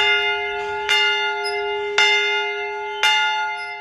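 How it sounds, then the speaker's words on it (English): A replica of the Liberty Bell rung three times in a slow, even rhythm, each loud metallic strike ringing out with a long, sustained decay between hits. "We're going to ring the bell."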